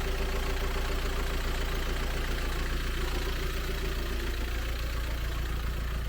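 A Volkswagen T5 van's 1.9 TDI PD diesel engine idles steadily, a constant close rumble with a low clattery pulse and no voices.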